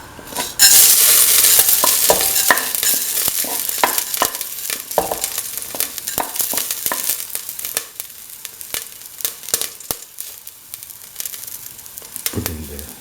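Fenugreek seeds drop into hot oil in a pan and burst into a loud sizzle, which settles into a crackling fry with sharp pops and stirring scrapes.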